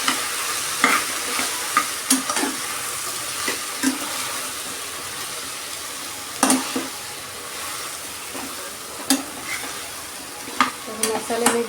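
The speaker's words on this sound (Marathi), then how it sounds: "आता आपल्याला हे सगळे मसाले मिक्स करून घेऊया" Spices for an okra curry fry in a pan with a soft, continuous sizzle, while a spoon scrapes and knocks against the metal in irregular stirring strokes, close up.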